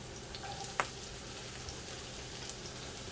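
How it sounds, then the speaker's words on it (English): Onions sizzle in hot oil in a pan, a steady faint crackle with one brief sharp clink near the start, no voices. "I'll put my onions in here."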